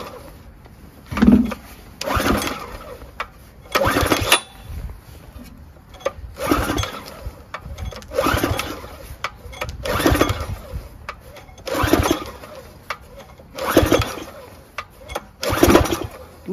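Repeated pull-start attempts on a Briggs & Stratton 6HP Intek engine from a Generac pressure washer left outside for years, each rhythmic pull a short rasping burst, about eight in a row with brief pauses between, no catch or running engine.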